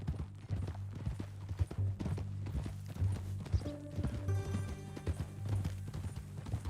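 Rhythmic clip-clop of horse hooves trotting in Red Dead Redemption, mixed with a steady low hum and scattered music-like tones, moderately loud throughout.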